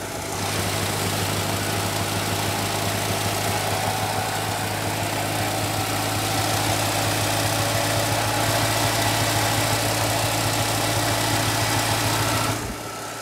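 A 1989 Chevy S10 truck engine, abandoned for 22 years, idles quietly and steadily, with a low, even hum and rumble and the exhaust sounding muffled or plugged, running alone for the whole stretch before cutting out near the end.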